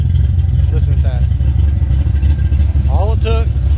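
A car engine fitted with FiTech fuel injection and running with a vacuum leak drones steadily and loudly at idle throughout. Brief speech-like bursts break in over the low, constant rumble.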